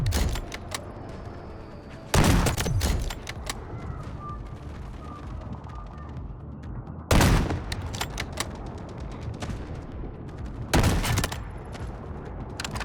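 Sniper rifle shots in the Delta Force video game ring out three times, loud and widely spaced, each a sharp crack with a long echoing tail over steady background game noise.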